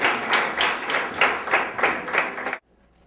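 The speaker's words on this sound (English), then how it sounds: "let's give them a round of applause." An audience claps in steady applause for about two and a half seconds, then it cuts off abruptly into near silence.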